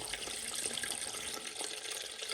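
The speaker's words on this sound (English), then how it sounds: "dirty water is coming out" Dirty rinse water drains out of a portable folding mini washing machine in a steady, hissing gush of flowing water, continuous and fairly close, with no talk over it.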